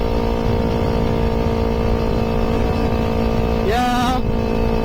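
A hobby motorcycle's loud aftermarket exhaust drones steadily and close while riding, and a brief rising rev sweeps up near the end.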